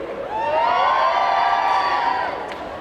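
Convention crowd at a Sunday cosplay contest and catwalk erupting in cheers, whoops and shouts, swelling quickly and holding loud for a couple of seconds before starting to fade.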